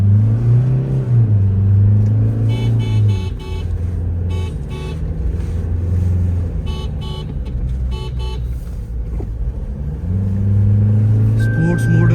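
A Toyota Fortuner Legender SUV accelerates in sport mode, a loud engine drone rising in pitch through gear changes, with intermittent beeping chimes and someone talking in the middle.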